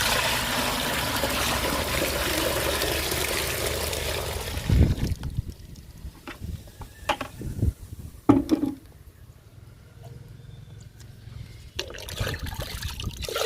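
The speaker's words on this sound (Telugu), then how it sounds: "వాటర్ పోస్తున్నాను" Water gushes steadily into a bucket for nearly five seconds, close and loud, then cuts off into scattered drips, splashes and light handling noises.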